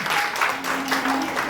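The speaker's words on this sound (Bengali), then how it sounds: "হাততালি হয়ে যাক।" Brief burst of audience applause after a student performance at a school event, dense clapping filling the short moment, fairly loud, with a faint tone lingering underneath.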